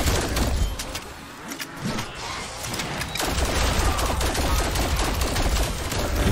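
Rapid gunfire from Call of Duty Cold War Zombies rattles on almost continuously, with dense overlapping shots and brief lulls, loud and close throughout.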